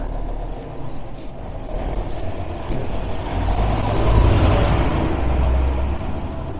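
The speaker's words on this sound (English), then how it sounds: "there's a big lorry coming" A big lorry drives past outdoors, its engine rumble swelling as it nears, peaking loud and close, then easing off, with no voices over it.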